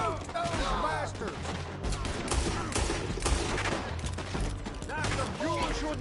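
Dense, sustained gunfire crackles without pause in a town shootout in Red Dead Redemption 2, with overlapping shots near and far and shouting voices mixed in throughout.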